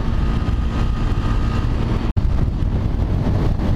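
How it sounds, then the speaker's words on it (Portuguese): Loud, blustery wind from a sandstorm near Brasília roars across the microphone nonstop, with a brief sharp dropout midway before the buffeting resumes. "Pense no vento que tá aqui"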